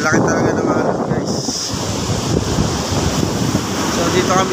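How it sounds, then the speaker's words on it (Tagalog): Big ocean waves crash onto the shore at Dingalan, Aurora, a loud, continuous roar of surf with strong wind buffeting the microphone, and people talk faintly underneath. "lalaki talaga ng alon guys."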